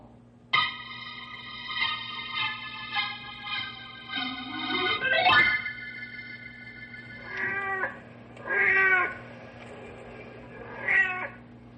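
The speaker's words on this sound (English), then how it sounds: "The big tomcat you're hearing on the prowl" A big tomcat on the prowl, staged as an old-time radio drama effect: drawn-out rising yowls, then a sweeping wail and several short separate meows, loud and close over a faint steady hum, with no talking.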